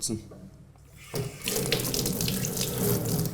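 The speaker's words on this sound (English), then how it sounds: "clean the sensor under running water with a mild detergent" Tap water runs steadily into a sink as the sensor of a Testo 270 cooking oil tester is rinsed under it, the flow starting softly and then splashing louder and fuller for the rest of the moment.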